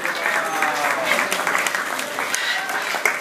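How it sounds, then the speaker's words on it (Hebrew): An audience at a parrot show in Hamat Gader claps steadily, a continuous, close wash of applause without a break. "בהחלט מגיע ללוסי מחיאות כפיים."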